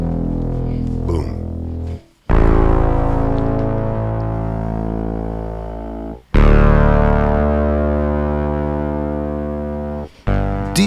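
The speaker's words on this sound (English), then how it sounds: "And when he put the distortion on, it sounded like this." Heavily distorted bass guitar notes, three long sustained buzzing tones, each struck loudly and slowly fading before the next, thick with gritty harmonics and no talk.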